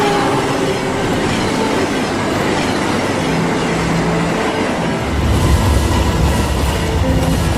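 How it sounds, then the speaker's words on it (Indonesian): A train on a homeward journey to the countryside runs loud and close, with steady rumbling and rhythmic clickety-clack of wheels on rails, plus some wheel squeal, the low rumble strengthening toward the end. "kereta berangkat"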